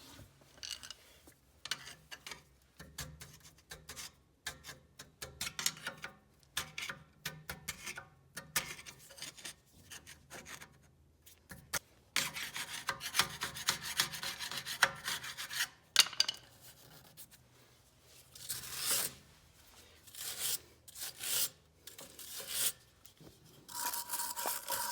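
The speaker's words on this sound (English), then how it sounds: "I'll also wire brush the inside of the rim here." A wire brush scrubbing corrosion off the inside of an aluminum wheel rim on a Mercedes E320, giving harsh, rapid scratching strokes in irregular bursts over a long stretch, close and loud.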